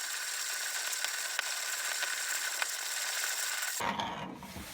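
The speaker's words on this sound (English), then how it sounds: "And we're going to grind here and see how it does for fineness and for speed." A 1950s-60s German hand coffee grinder crushing beans, a steady gritty rasping with faint periodic clicks from the turning handle, close and quiet, ending abruptly.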